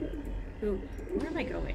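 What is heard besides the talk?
pet pigeon cooing in the background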